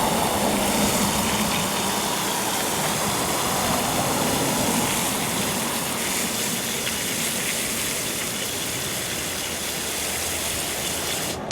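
Water gushes steadily onto the soil of a newly planted bare-root Sweet Bay Magnolia tree in a garden, a loud continuous rushing wash that holds unbroken throughout.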